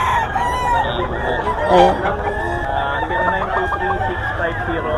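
Roosters crow repeatedly at a crowded gamefowl market in Bocaue, their drawn-out calls layered over a steady din of chatter and an announcer's voice.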